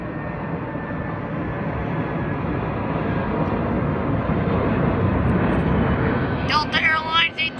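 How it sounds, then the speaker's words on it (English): United Airlines Airbus A320-200 airliner near San Diego airport, a steady broadband jet roar that holds loud and even throughout, with a brief fluttering change near the end. "United A320-200 serves to San Francisco"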